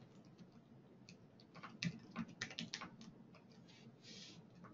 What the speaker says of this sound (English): Simply type in the address and hit connect to H2O